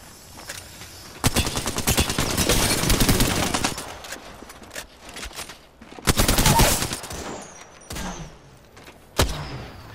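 Bursts of gunfire striking the player in an Apex Legends match: loud, rapid automatic volleys in several separate strings, with sharp single shots and short pauses between them.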